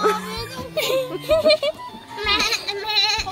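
A goat bleats several times up close, wavering cries mixed with human voices and a bit of giggling.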